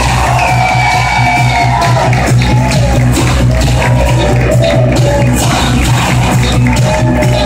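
Wedding guests applauding and cheering loudly as the bridal party is introduced, a dense, continuous roar of clapping, whoops and shouts with a steady low hum underneath.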